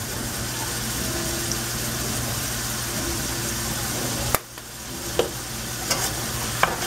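Ground meat for shepherd's pie sizzles and fries steadily in a pan, a constant close hiss broken by a sudden scrape of stirring and then a few sharp clinks and pops.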